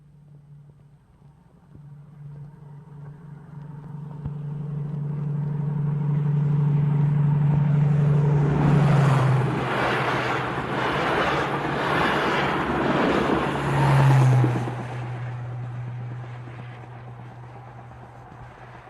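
A diesel train approaches with a low engine hum, roars past with a rhythmic clatter of carriages, then fades to the steady drone of the diesel motor at the train's end.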